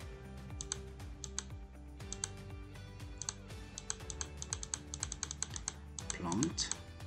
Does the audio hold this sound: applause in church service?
no